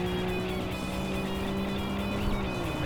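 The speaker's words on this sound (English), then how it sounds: "This car sounds so goofy." A Lotus Esprit engine in the video game Tokyo Xtreme Racer 3 drones steadily at a constant pitch throughout, loud and close, with a slightly buzzy, synthetic tone and no talking.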